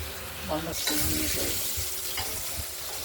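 Pieces of pointed gourd (potol) fry in hot oil with a constant loud crackling sizzle, while a spatula scrapes and turns them in the pan.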